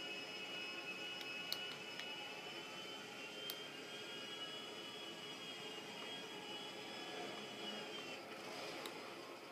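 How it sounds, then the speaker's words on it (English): A big plane flying in the video game GTA V, giving a steady, continuous jet roar with a high whine, fairly quiet and unchanging throughout, with a few faint clicks. "it was good to fly a big plane like that anyway"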